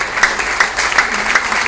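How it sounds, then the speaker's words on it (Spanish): A church congregation claps in unison, a dense, loud burst of applause with a steady rhythmic beat running through it. "Denle un aplauso al Señor de gloria."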